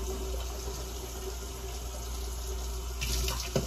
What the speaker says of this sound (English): Rinse my mouth.